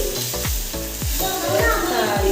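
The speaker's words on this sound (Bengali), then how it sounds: "এদিকে দেখো মাছের মাথাটা ভাজা বসালাম" A fish head fries in a pan with a steady, close sizzle, broken by a regular series of scraping strokes about every half second.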